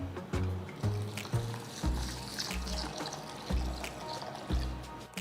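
Urad dal and toor dal being rinsed in water in a bowl, sloshing and trickling water with repeated rhythmic splashes and swirls as the lentils are washed, close and moderately loud with no voices.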